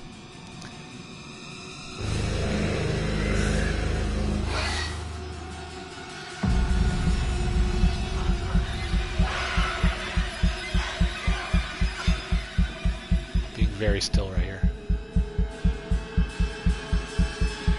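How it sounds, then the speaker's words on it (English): In the horror video game Until Dawn, a rapid heartbeat pounds as steady, regular thumps that build after a low hum. One voice speaks briefly early on. "My controller is beating like a heartbeat really, really quick."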